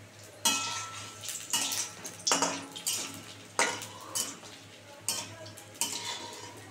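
Fried paneer pieces are lifted out of a frying pan with a metal utensil, making about eight sharp scrapes and clinks in an uneven rhythm. The sounds are close, over a low hum of frying.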